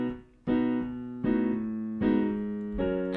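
Piano left-hand walk-down in B, four separate notes or chords struck one after another, each ringing and fading before the next, close and clear with no talking.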